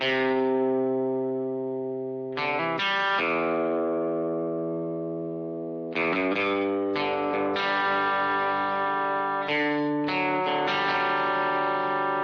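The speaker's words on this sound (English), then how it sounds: "I added this electric guitar, which is doing more of kind of a spaghetti western riff" A twangy electric guitar plays a slow, reverb-soaked spaghetti western riff for a pop country track, notes ringing out and sustaining between sparse plucks; no voices.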